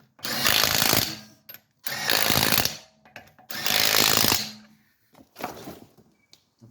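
An impact wrench on a Nissan Juke runs bolts down their threads in three long, loud buzzing bursts and a shorter final one, with brief pauses between them.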